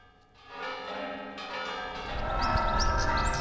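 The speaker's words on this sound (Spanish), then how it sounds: "Las campanas de la Catedral Zamorana celebran que Jesús ha resucitado." Bells of Zamora Cathedral in Spain ringing out on Easter Sunday: a dense, sustained wash of overlapping bell tones building steadily in loudness, heard outdoors at some distance with no talk.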